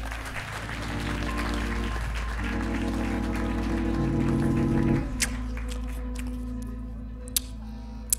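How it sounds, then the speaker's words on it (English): An audience at a Chicago magic lounge show claps for a volunteer, the applause sitting over a sustained humming tone for several seconds before thinning out to a few scattered, isolated claps. "Give him a round of applause"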